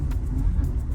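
A car driving on a road in Pointe-Noire, Congo, heard from inside as a steady, loud low rumble of engine and road noise with no talking.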